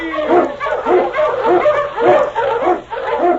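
Husky sled dogs bark and yip in quick repeated bursts, close and loud, about a dozen excited yelps in rapid succession.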